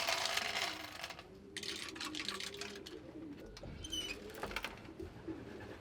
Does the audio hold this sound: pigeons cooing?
yes